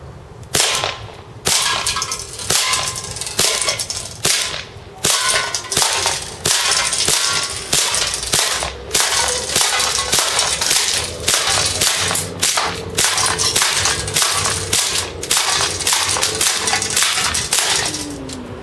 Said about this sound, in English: Let's shoot one full mag through this.